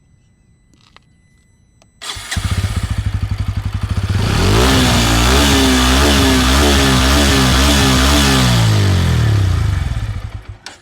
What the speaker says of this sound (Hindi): आपने ये सुना कि इसका जो इंजन का साउंड है